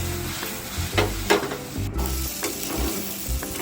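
Mutton pieces fry in a pan over a high flame for an Afghani mutton gravy, a steady loud sizzle with scraping stirs and clinks close by, and no voices.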